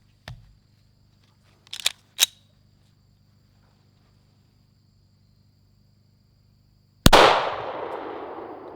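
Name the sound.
9mm pistol shot fired at target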